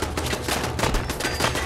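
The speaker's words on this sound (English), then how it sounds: "who is throwing grenades, bro?" Gunfire and grenade blasts in the Fallout 4 video game come as rapid, dense bursts of loud cracks and thumps throughout the short stretch.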